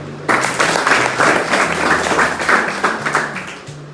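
An audience at an Indian event honouring a student's top exam rank claps steadily and loudly from just after the start, with a faint low tone running underneath.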